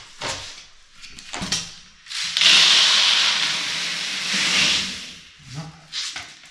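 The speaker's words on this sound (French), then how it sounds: "le fait de le renverser, ça va déjà mélanger en partie les pelets" Carp fishing pellets for barbel bait slide and pour into a large, deep container, a rushing granular hiss that swells for a few seconds between shorter shuffling rattles, close and fairly loud.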